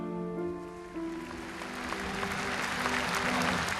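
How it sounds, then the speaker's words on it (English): Applause building from outside Westminster Abbey during Princess Diana's funeral, a dense wash of many hands swelling steadily over a faint sustained tone, growing louder toward the end. "The applause, which erupted outside Westminster Abbey and quickly spread inside"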